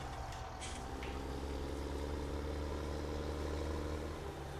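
A tractor engine in the Farming Simulator 17 video game hums as a steady, low idling drone that continues unchanged throughout, with no voices.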